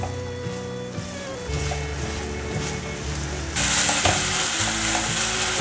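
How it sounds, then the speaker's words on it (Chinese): Potatoes stir-frying in hot oil in a pan give a steady, close sizzle with stirring scrapes, the frying hiss growing louder and brighter midway through. "油已经热了，放入马铃薯， 把马铃薯炒香"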